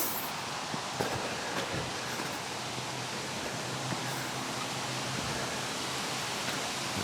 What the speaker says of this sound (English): You can start to hear the water a little here